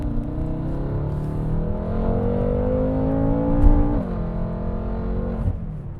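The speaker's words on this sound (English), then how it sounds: "I'm going to give you just a little bit of a demonstration about the acceleration of this vehicle" 2014 BMW M5 pulling away under hard acceleration from inside the car, a steady loud engine roar climbing in pitch, with a brief shift dip before it rises again.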